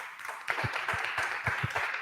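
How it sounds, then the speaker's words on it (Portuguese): A short burst of audience applause at a junior enterprise movement talk in Brazil, an uneven patter of claps with some sharper hits, moderately loud. "Uma salva de palmas para esse querido."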